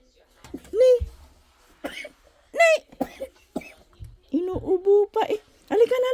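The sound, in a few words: child coughing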